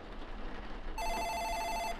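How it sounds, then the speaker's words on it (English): A telephone rings in the horror game Future Racer 2000 while a player explores an apartment hallway, one sustained electronic trill starting about a second in over low background ambience, clear and unobstructed. "someone is calling."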